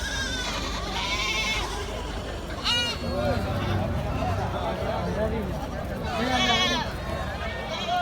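Malabari goats bleat repeatedly at a busy livestock market, loud nearby cries rising over a crowd murmur and voices.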